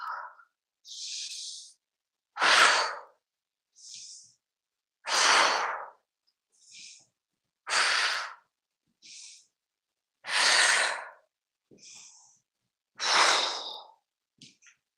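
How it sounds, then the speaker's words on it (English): Slow, deep breaths in and out during a tai chi class, each long airy exhale alternating with a shorter inhale, repeated in a steady rhythm for about seven cycles, close and clear against silence. "Inhale, exhale."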